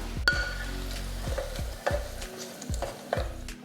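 Sautéed garlic and green chillies poured from a small pan into cooked green moong dal: a series of short sizzling splashes and clinks at uneven intervals over a low background, close and moderately loud.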